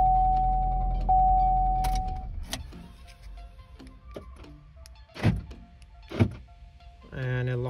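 Door locks of a 2014 Chevy Sonic actuating: an idling engine fades, then two sharp mechanical thunks spaced about a second apart, followed by a chirping chime at the end.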